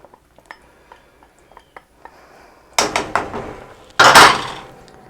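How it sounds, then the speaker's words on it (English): A small whisk working in a pot, light metallic ticks at first, then two louder bursts of scraping and clattering, close and without talk. "Wish I had a slightly bigger whisk. No offense, little whisk, but I wish you were slightly bigger."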